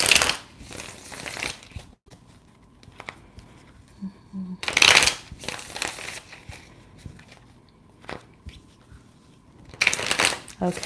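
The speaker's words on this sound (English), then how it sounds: "I like to give it a good shuffle to help kind of cleanse out between and get it ready for the next hot topic" Tarot cards being shuffled close up in repeated riffling bursts separated by pauses, with a voice talking quietly in between.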